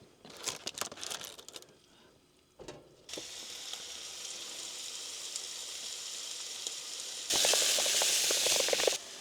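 Pork mince sizzles and fries in a deep frying pan on a small stove, a steady loud crackle after a few stirring clatters, swelling even louder near the end.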